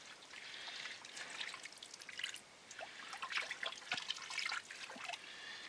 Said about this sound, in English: I need to put a little water in there first.